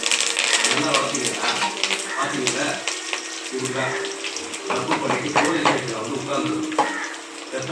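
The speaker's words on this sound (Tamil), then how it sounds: "சோம்பு, பூண்டு, கறிவேப்பிலை, பட்டை நல்லா சவுண்ட் வந்துடும்." Fennel seeds, garlic, curry leaves and cinnamon sizzling in hot oil with popped mustard seeds, a dense steady crackle and hiss that runs throughout, with a voice speaking over it.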